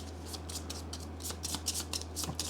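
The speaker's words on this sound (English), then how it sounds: "We are going to shuffle these guys up," Space Hulk: Death Angel game cards being shuffled by hand, a quick series of soft papery riffles and slides close up, with a steady low hum underneath.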